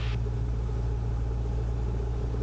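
A Cessna 172 engine running at full power during the takeoff roll, a steady loud droning rumble heard from inside the cabin, continuous and without speech.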